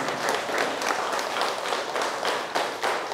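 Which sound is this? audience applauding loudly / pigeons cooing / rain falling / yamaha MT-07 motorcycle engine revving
audience applauding loudly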